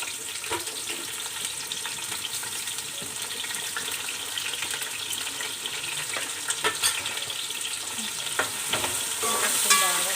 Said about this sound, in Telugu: ఇందులోకి నేను పచ్చిమిర్చి, ఉల్లిపాయలు అన్నీ యాడ్ చేస్తున్నాను.